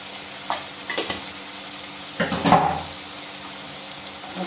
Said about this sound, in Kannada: ಓಕೆ ನೀಟಾಗಿ ಮಿಕ್ಸ್ ಮಾಡೋಣ ಮಿಕ್ಸ್ ಮಾಡಿ ನೀಟಾಗಿ ಫ್ರೈ ಮಾಡ್ಕೋಬೇಕು